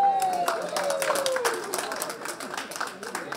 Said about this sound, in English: let's give a warm applause to African Youth Organization